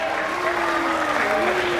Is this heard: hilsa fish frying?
no